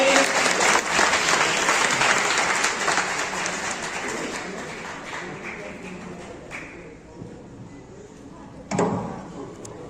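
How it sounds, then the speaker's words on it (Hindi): Loud applause from a crowd in a hall greets a state agriculture minister, then slowly thins and fades, with a brief burst of clapping near the end. "जोरदार तालियां पूरे हॉल में होनी चाहिए"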